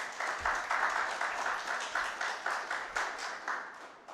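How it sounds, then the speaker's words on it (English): Clapping from an audience at a Reggae Month morning event honoring an ambassador; the claps fall into a steady rhythmic pattern, fairly distant and moderately quiet, with no one speaking. "That should be a round of applause for that."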